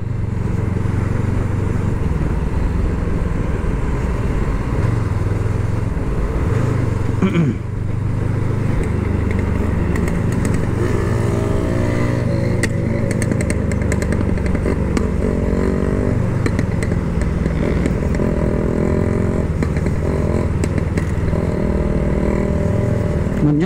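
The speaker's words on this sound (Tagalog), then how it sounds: "Napakagaan itong motor na to." A light 500cc big bike motorcycle rides along with a continuous, loud engine drone, rising and falling as the throttle and gears change, heard close up throughout with smooth power delivery.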